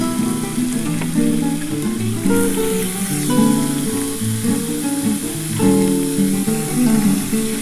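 Shredded cabbage fries in a pan for a veg momo filling, an even sizzle with occasional stirring that sits beneath prominent tonal background music throughout.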